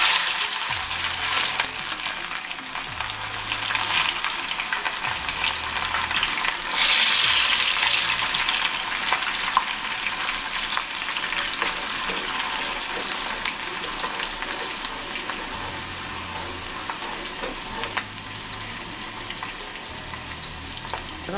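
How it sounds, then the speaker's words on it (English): Onions sizzle in hot oil in a pan for Nigerian egg sauce, a steady crackling fry over a low background hum, with occasional clinks and stirring. "so I'm gonna fry my onion to make egg sauce"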